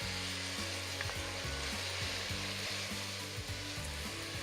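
Pernod poured over risotto rice toasting in oil in a pan, crackling and sizzling steadily and close, with a wooden spoon stirring through it and a low kitchen hum underneath.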